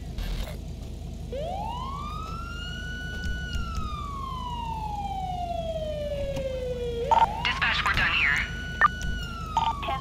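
Ambulance siren in GTA 5, a single long wailing tone that rises, holds, slowly falls, then rises again, loud over a steady low engine rumble, with brief radio chatter near the end.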